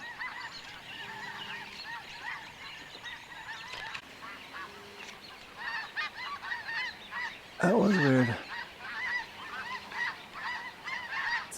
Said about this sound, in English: Snow geese coming from right to left, going toward the lake.